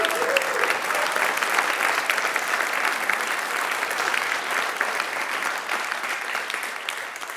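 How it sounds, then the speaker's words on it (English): Sustained applause fills a packed London auction sale room during a charity auction, a dense, steady clatter of many hands clapping throughout without a break. "A round of applause, please."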